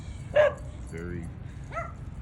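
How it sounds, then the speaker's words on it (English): A dog barks and yips several times at a dog park, short sharp calls spaced across a couple of seconds, fairly close, with some background chatter. "She likes to bark and tell people what to do."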